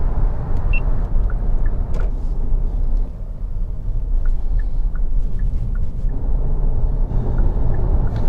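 A 2025 Kia Telluride SX Prestige X-Pro cruises at 75 mph, its cabin filled with a steady loud road and engine rumble plus wind noise, unbroken throughout.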